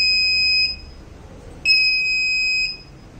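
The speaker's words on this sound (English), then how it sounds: "the buzzer will be on and off two times" An electronic buzzer on a face-recognition vehicle ignition control board sounds twice at power-up, each a steady piercing beep lasting about a second, separated by a short silence.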